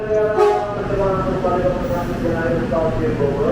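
An electric commuter train rumbles steadily nearby as it arrives at Depok station, a sustained tonal hum and steady roar of rolling cars filling the air.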